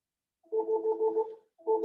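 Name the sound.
phone ringing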